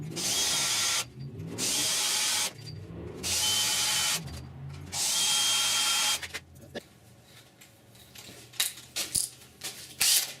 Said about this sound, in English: Alright, let's start drilling them.